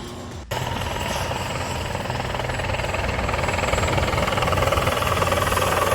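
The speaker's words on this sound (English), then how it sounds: "So this is another pilot in the chopper right now." After a brief break, a helicopter's steady rapid rotor chop thumps loudly and continuously, close by and unbroken to the end.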